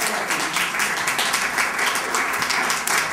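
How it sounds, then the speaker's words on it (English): Audience applause at a literary celebration reading, a steady wash of many hands clapping that holds at an even level from start to end. "she deserves a round of applause too."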